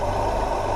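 Engine of a 2001 Mercedes CLK 230 Kompressor (W208) with a supercharged M111 EVO four-cylinder running on bioethanol, a steady loud mechanical drone as it pulls hard, filling the moment without a break and with no voices.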